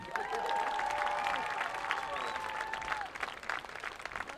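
A crowd at a high school stadium football game claps and cheers loudly for senior players and cheerleaders, with a few whistles and shouts over the applause, which thins out toward the end.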